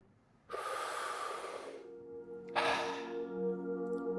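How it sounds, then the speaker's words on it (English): A deep breath drawn in through the mouth during guided breath work, a long airy inhale near the microphone followed by a second breathy rush with a faint voiced tone, no speech. "On 3, we're going to take a deep breath in."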